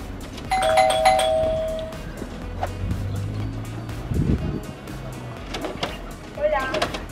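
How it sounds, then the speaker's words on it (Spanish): A doorbell at a home entrance rings with a bright electronic chime near the start, its tones ringing briefly, followed by muffled background noise and people talking. "así que voy a tocar el timbre a ver si ya está ahí."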